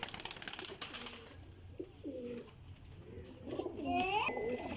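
Pigeons coo at close range, several soft throaty rising-and-falling calls in succession, with wing rustles and a little background chatter around them.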